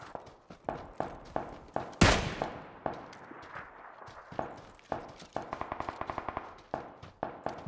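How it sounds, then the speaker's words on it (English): Gunfire in the battle-royale game PUBG: dense bursts of shots all around, near and far, with one loud close blast and rapid automatic volleys later on, no voices. "There's so much shooting going on."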